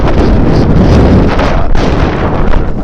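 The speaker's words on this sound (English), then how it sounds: "it would be such a nice day if there was no wind. It's windy, Charlie." Strong wind of 15 to 20 miles an hour buffets the microphone in a constant loud roar with heavy low rumbling gusts and no other sounds standing out.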